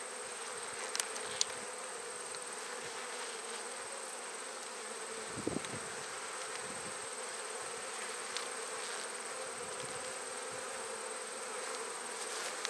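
Honey bees at a freshly opened new hive give a steady, dense buzz that holds for the whole stretch, with a few faint knocks and no voices.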